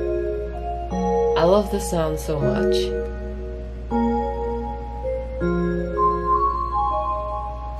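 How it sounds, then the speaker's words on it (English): A bright bell ensemble instrument rings in sustained, shimmering tones in a K-pop-style cover production, following a short stretch of someone talking near the start. "I put this instrument called bells ensemble. This sounds like this. It's such a beautiful bell sound."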